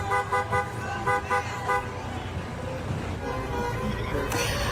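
Passing drivers honk their car horns at a small peaceful rally outside the Peoria County Courthouse, a rapid series of short toots followed by steady traffic noise and another horn blast at the end.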